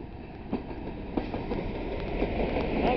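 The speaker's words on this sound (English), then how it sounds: "I've got a Freightliner 66 on the front." A Freightliner Class 66 diesel locomotive hauls a rail tour train through Exeter St Davids with a DRS Class 37 also in the consist, a steady rumble with faint clickety-clack wheel beats rising slightly over three seconds.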